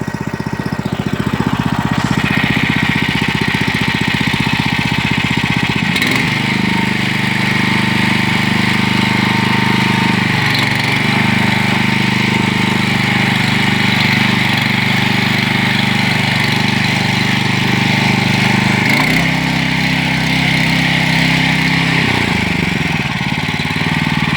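A mini tractor with a reworked hydraulic system runs its small engine steadily for the whole stretch, a loud, even mechanical drone with slight shifts in pitch and load around a few moments, no voices heard.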